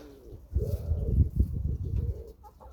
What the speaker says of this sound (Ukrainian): О, голуби.